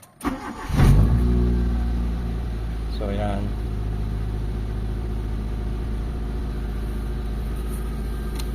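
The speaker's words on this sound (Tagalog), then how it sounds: "umaandar yung makina natin" A Mitsubishi Lancer with a low-power fault cranks and fires up, then settles into a steady, close idle. Someone speaks briefly over the engine.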